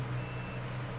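In the video game SnowRunner, a truck's faint electronic reversing beep sounds over a low, steady engine hum, quiet and continuous for the brief moment.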